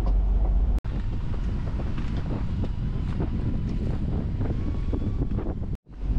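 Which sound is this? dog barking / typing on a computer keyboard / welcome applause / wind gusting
wind gusting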